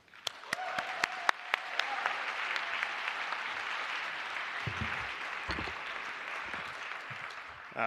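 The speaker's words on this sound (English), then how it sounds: "I would like a roaring round of applause for Thomas Ristenpark, the General Chair this year" Audience applause for the general chair at a cryptography conference, a steady wash of many hands clapping throughout with a few sharper near claps at the start and no voices.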